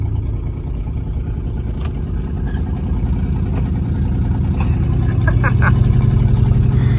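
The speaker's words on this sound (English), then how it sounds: "I hope you enjoy my open driver's side exhaust." Loud, rough engine rumble from a lifted crew cab truck with an open driver's side exhaust, steady and building slightly in intensity, heard from inside the cab with some faint background clatter.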